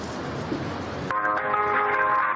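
A telephone line rings after dialing the 115 emergency social service number, noise cutting off into a steady tonal ring in the earpiece that holds to the end.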